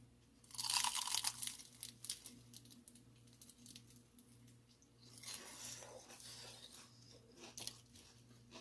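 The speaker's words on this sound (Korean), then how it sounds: "완성된 스프링롤 먹어볼게요" Crunching bites of air-fried No Brand spring rolls, a loud burst of crisp chewing close up, then quieter chewing continuing under a low steady background hum.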